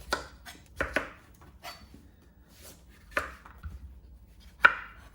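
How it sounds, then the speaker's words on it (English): A knife chops through butternut squash on a board, giving several sharp, separate cutting strikes at an uneven pace, close and fairly quiet, with no talking. "The bottom halves of the butternut squash have seeds, so we'll want to cut these in half."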